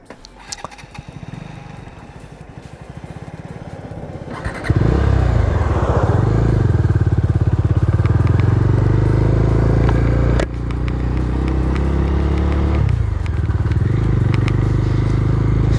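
A 2022 Bajaj Dominar 250 BS6 motorcycle idles quietly at first, then its engine rises sharply into a loud, steady riding drone with gear-change dips and shifts, close and continuous without talk.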